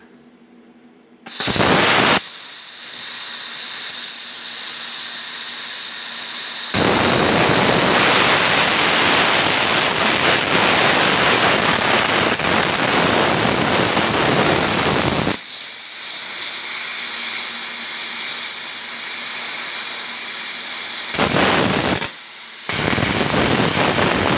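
Metal for door hinges being cut along a template, with a loud, steady, hissing cutting roar that runs for long stretches, broken by brief pauses and a quieter spell in the middle.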